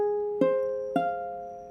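A minor chord sounded for ear training, struck twice in succession with short sustained ringing tones that slowly decay between attacks, clear and alone.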